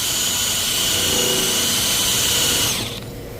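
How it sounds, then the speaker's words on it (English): An impact wrench spins a wheel hub cleaning tool against a hub around the studs, a loud steady high-pitched whir heard alone at close range that drops away near the end. "So now I've got my impact on here. I kind of rock it back and forth"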